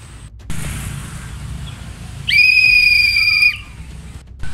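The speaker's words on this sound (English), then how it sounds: "One long whistle blast for proceed." A single long, steady whistle blast, loud and shrill, held for just over a second over a low background hum.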